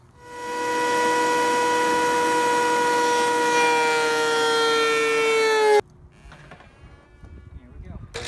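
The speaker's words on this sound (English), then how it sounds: "I'm just gonna run the whole thing through the planer and get it to the thickness I want" A wood planer runs a board through to bring it to thickness, a loud steady whine that holds for nearly six seconds, then cuts off abruptly, leaving quieter shop noise and motor rundown.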